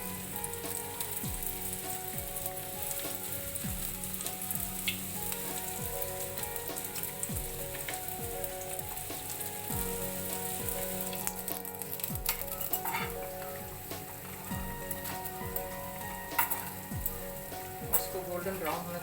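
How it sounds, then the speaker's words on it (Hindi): Bread pieces shallow-fry in a pan for shahi toast, giving a soft, continuous sizzle and crackle like light rain that runs steadily throughout. "आप चाहें तो इसे डीप फ्राई भी कर सकते हैं, पर मैं इसे शैलो फ्राई कर रही हूँ।"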